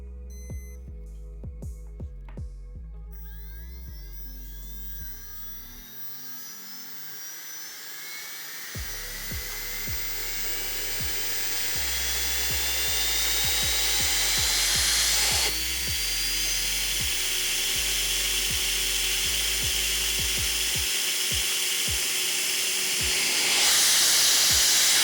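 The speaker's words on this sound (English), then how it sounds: "from then on, we can actually start testing the turbine." A homemade turbine on a test scale spins up, its whine climbing steadily in pitch over many seconds into a loud, sustained hissing roar with rising tones, after some light clicks and knocks at the start.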